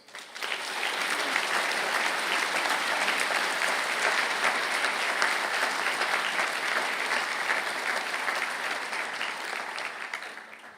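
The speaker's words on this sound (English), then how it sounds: "I'd ask the graduates for the Master of Science in Applied Sports and Exercise Nutrition to please stand for a well-deserved round of applause." Sustained applause from a seated audience at a university conferring ceremony in Galway, as Master of Science graduates stand; dense, even clapping fills the hall for about ten seconds before tapering at the end.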